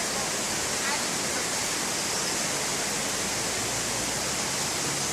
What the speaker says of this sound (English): Man, I could go to sleep with the sound of that creek